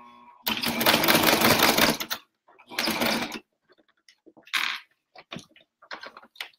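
A sewing machine stitching an oven mitt in short bursts: a long loud run of stitching, then a briefer one, followed by scattered clicks and short stops as the fabric is repositioned, close and with no talking.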